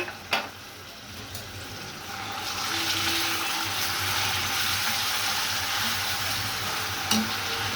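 Green chili, onion and salt frying in oil in a kadai, a steady loud sizzle that swells after a few seconds and holds, with a couple of sharp knocks near the start and end.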